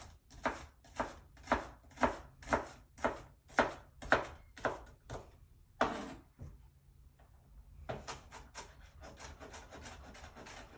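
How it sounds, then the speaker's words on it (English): An onion is chopped with a knife on a cutting board for pumpkin risotto, about a dozen sharp, evenly spaced close strokes, then a pause and a run of quicker, lighter cuts. "Then you're just going to chop this up."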